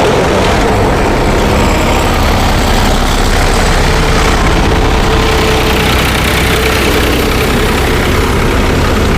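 Tractor engine at a large cow shelter in Barsana where tractor trolleys deliver fodder, a loud continuous low rumble close by with steady heavy noise throughout and no talking.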